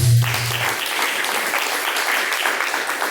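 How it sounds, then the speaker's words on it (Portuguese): Worshippers at a church service clap their hands in praise, a full, sustained burst of applause from a large congregation that follows a brief voice at the start and stays loud throughout. "Uma, duas, as palmas que louvam a Deus."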